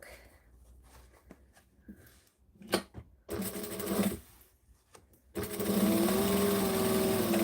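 A sewing machine stitching and backstitching a garment, its fast mechanical whirr coming in short bursts between quiet pauses, then a longer, steady, louder run at the end, close by with no talk.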